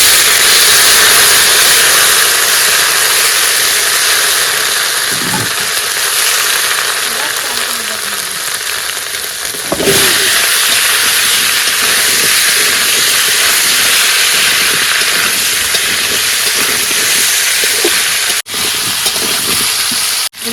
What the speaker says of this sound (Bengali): এবার তেলে জিরে ফোড়ন দিয়ে দিলাম তেজপাতা আদা